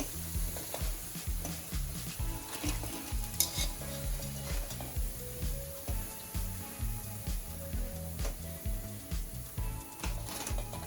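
Sabudana vadas sizzle steadily in hot frying oil, a continuous close crackle with soft stirring and scraping on top and no talking.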